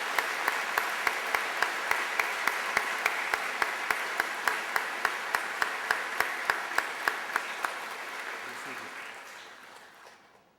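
A 2007 university commencement audience gives faculty and staff a round of applause. Dense clapping is punctuated by one sharp, evenly spaced clap close by, then the applause gradually fades away.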